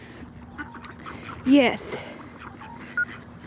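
Ducks at a park in West Newton, Pennsylvania, giving a short burst of loud quacks midway, with a brief call later, while people talk softly nearby.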